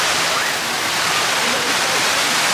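Rushing, blowing water outdoors on a sunny day, a loud, steady broadband roar that continues without a break throughout.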